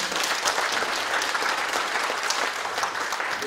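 Audience applause at a seminar on developing an industry in Icheon city: a dense, steady clatter of many hands clapping that fills the room at full strength for a few seconds without letting up.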